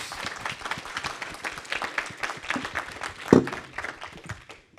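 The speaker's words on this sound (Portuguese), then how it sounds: "eu queria pedir de todos uma salva de palmas aqui para os nossos expertos" Attendees at a legal and tax panel discussion in Brazil applaud the experts. Many hands clap in a quick, uneven rhythm with one sharp loud clap or knock partway through, then the applause fades out.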